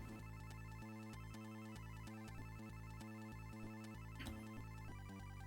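A phone rings in a room during a relaxed Amiga hardware and firmware work session, its repeated electronic ringtone pattern steady and fairly quiet, with no talk over it.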